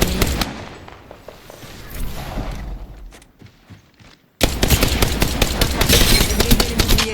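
Dense automatic gunfire in a shooter video game, rapid bursts of loud close shots with shattering shield impacts, a brief lull, then a sustained barrage.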